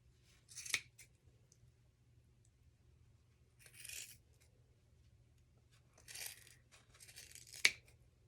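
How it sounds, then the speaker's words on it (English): Scissors snip yarn loops quietly in a few short, separate bursts with pauses between them, crisp and close against a faint low hum. "I'm going to take my scissors, and I'm going to go through all these loops,"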